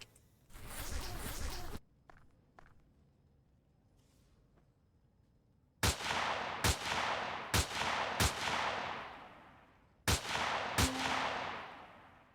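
Enemy gunfire in the space survival game Empyrion: a burst of noisy fire, a quiet lull, then a run of sharp, loud single shots with ringing decay, spaced about a second apart, one cracking very close.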